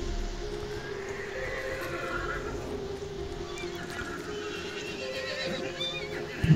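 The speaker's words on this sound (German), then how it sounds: "Oh, Pferdchen." A horse in the video game Hunt: Showdown whinnies with a wavering, high neigh over steady background hum, with faint hoof clatter and a soft thump at the end.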